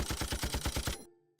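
A late 19th-century Maxim machine gun fires a rapid, evenly spaced burst of about ten loud shots in one second, then cuts off abruptly.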